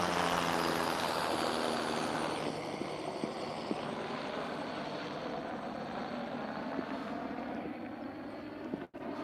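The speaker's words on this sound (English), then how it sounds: "Oh, the chopper." A helicopter passes over a waterside trail, its rotor wash a loud broad roar that gradually fades and thins as it moves away, with no talking.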